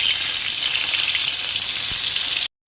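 Pointed gourd (potol) frying in oil left over from frying fish gives off a loud, continuous, hissing sizzle that cuts out briefly just before the end.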